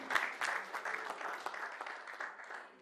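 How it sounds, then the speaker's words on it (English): Moderately faint applause rises from a conference audience as panelists are welcomed at a real estate and mortgage event. The clapping is soft and continuous and slowly fades toward the end. "Please, a round of applause again."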